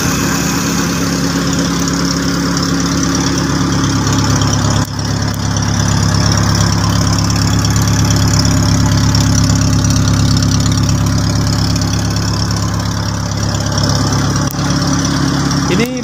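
A restored car's engine, without an exhaust guard, idles in a steady low, rough rumble that stays loud and constant for the whole stretch, with only faint talk beneath it.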